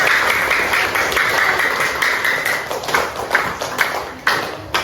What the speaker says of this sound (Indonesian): Tepuk tangan untuk Mbak Nadifa.